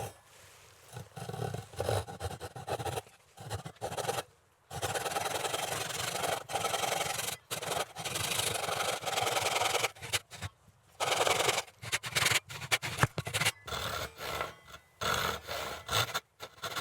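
A hand saw cutting wood pieces for a folding sawhorse, making repeated rasping strokes in a long steady rhythm that stops briefly between bursts, close and fairly loud.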